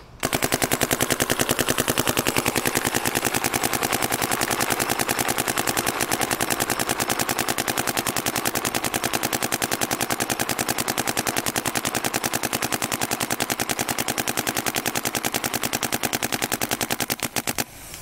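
An M3 Plus paintball marker firing Dynasty banana scented paintballs in a long, rapid, evenly spaced burst of sharp pops lasting many seconds, close and loud with no voices.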